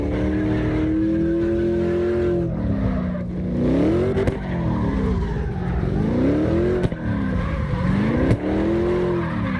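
An all-wheel-drive car drifting in CarX Drift Racing Online: a loud, steady engine note rises and falls in repeated waves as tires squeal through the slides, with no one talking.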